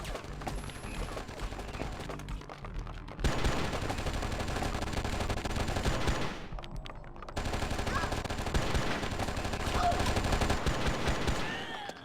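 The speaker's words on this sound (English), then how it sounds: "Talk about exchanging fire." Gunfire in the PC action game Oni, with rapid bursts of automatic weapon fire filling most of the stretch, broken by two brief pauses, loud and dense.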